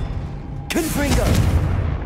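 A Confringo fire-blasting spell goes off in Hogwarts Legacy, a sudden loud burst that trails into a rumbling tail, with a voice heard during the blast.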